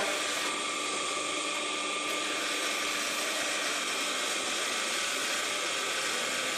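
An induction motor runs steadily on a bench in an electrical lab, its shaft coupled to a tachometer, giving a constant, fairly loud hum and broadband whir with no pauses and no one speaking.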